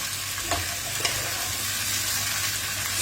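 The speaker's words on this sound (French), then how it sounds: "je le fais revenir pendant 5-10 minutes. Avec l'oignon" Onion with carrots and butternut squash sautéing in a pan, a steady soft sizzle with a couple of faint stirring scrapes, continuous and close with no talking.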